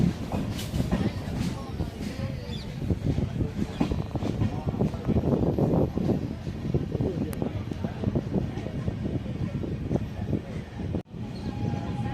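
Trichy-Tambaram Intercity Express passing at Thanjavur: a steady, continuous rumble and rattle of rolling carriages with faint rhythmic clatter throughout, fairly close, with a brief dip near the end.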